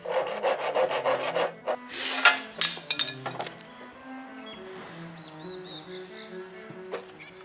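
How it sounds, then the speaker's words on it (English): A hand rasp scrapes at the corners of a wooden cello-stand part in quick, uneven rubbing strokes that are loudest at first, then give way to softer scraping and light wooden clinks. "And then I round off the corners with a rasp."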